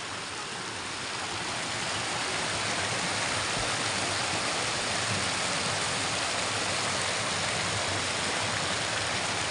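A stream in a village setting flows with a steady, loud rush of water that stays unbroken for the whole stretch, with no voices over it.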